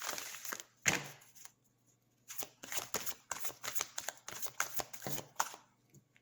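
Oracle cards from a Moonology deck being shuffled close by, a quick riffle followed by a run of rapid papery flicks and slaps in uneven bursts, with no talking.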